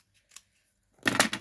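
Scissors cut through card paper during card making with a craft kit, a brief faint snip followed by a louder, close burst of cutting about a second long.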